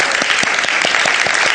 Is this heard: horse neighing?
no